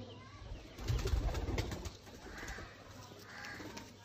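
Soft, low golden pigeon coos repeat close by in a calm rhythm, with faint rustling and light background noise.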